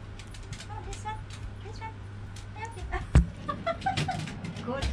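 A dog whimpers and yips in short, high-pitched bursts at close range, mixed with brief human voice sounds and a low engine hum underneath.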